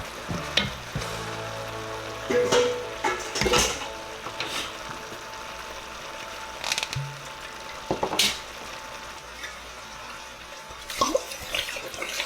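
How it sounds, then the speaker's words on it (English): Beef chunks sear in a pot for beef bourguignon, a steady frying sizzle running throughout with intermittent clatters and scrapes of utensils, close and moderately loud, with no talking. "Beef goes in."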